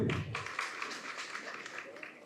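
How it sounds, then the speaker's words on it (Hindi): A seated audience at an indoor health awareness session applauds, a faint, steady patter of many hands lasting about two seconds after a short low thump at the start. "एक बार जोरदार तालियां सबके लिए।"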